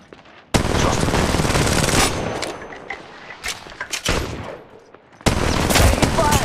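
Loud, dense automatic gunfire from the mobile battle royale game Apex Legends Mobile, coming in long sustained bursts with brief gaps and a heavy final volley, under faint game voices.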